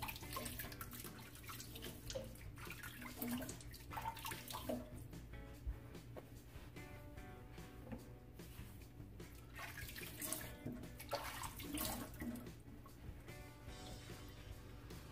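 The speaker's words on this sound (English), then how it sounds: "We'll throw a little bit of water on the head." A bathroom tap runs water onto the head of a shaving brush, a soft, steady splashing trickle heard close up and fairly quiet, with no talking.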